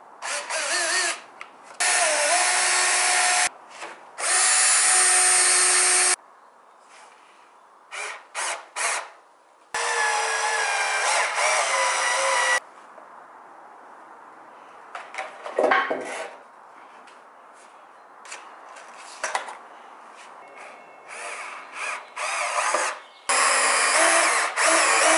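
A power drill drives screws into a wooden skate box in several loud whirring bursts of varying length, separated by pauses and small clicks of handling.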